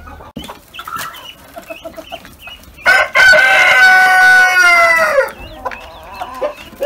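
Chickens cluck and call softly inside a coop, then a rooster lets out one loud, close crow lasting a couple of seconds before the hens resume their scattered clucking.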